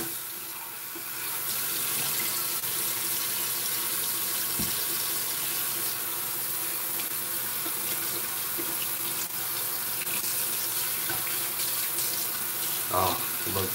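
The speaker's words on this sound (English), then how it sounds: "Back to warm so I can rinse out the brush." Warm water runs steadily from a bathroom tap into a sink to rinse a shaving brush, a continuous close hiss and splash that lasts throughout, with faint clinks near the end.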